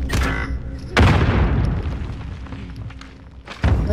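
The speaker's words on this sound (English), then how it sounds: "That's an M82 grenade. That's a grenade launcher." Grenade launcher rounds from an M82 in Call of Duty: Modern Warfare explode in heavy booms: one sharp close blast followed by a rumbling decay, with further impacts at the start and end.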